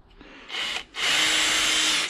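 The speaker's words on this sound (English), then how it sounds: "I'm gonna drill a pilot hole through there." A power drill bores a pilot hole through a ring, giving a short whirring burst, a brief pause, then a longer, louder steady grinding whine as the bit bites into the metal.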